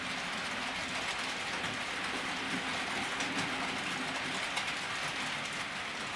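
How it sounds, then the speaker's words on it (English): Steady, faint whirr and rail rattle of a Bachmann model Class 47 diesel locomotive in EWS livery running around a model railway layout, with soft, continuous rolling clicks and no voices. "And here comes the train up the top bend."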